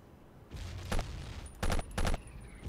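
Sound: gunfire in the video game Battlefield 1942

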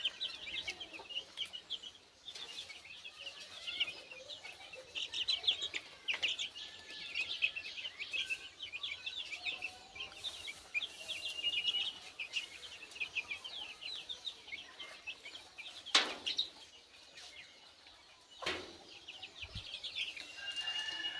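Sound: tiger breed chicken chicks clucking

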